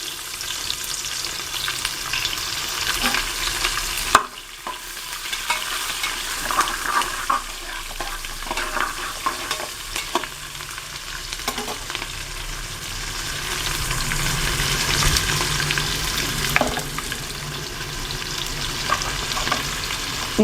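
Onions frying in hot oil in a pan for pepper chicken, a continuous loud sizzle with scraping stirring strokes throughout, one brief dip near the start, no talking.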